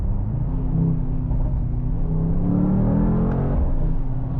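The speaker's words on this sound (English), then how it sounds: "So let's go and accelerate once again." A Mercedes-AMG GT 63 S E Performance hybrid four-door pulls hard after a downshift, its engine a deep, continuous rumble that climbs slightly in pitch under a steady whir, heard from inside with no talking.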